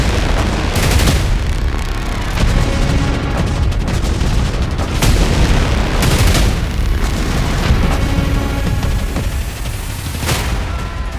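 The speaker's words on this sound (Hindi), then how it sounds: "دست کم صدای 2 انفجار در تهران شنیده شده" Explosions in Tehran during a missile attack, a dense continuous barrage of loud booms and blasts with sharp louder bursts standing out from a constant rumbling roar.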